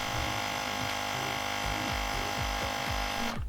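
An Airman mini tire compressor inflates a motorcycle tire, a steady close electric drone with a rhythmic pulsing throb that cuts off abruptly at the very end.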